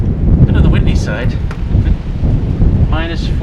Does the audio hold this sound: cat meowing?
no